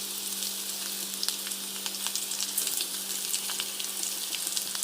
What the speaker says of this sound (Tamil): வெங்காயம் நல்லா வதக்கலாம் பொன்னிறமாக.